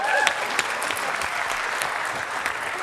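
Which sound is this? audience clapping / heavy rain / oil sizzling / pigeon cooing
audience clapping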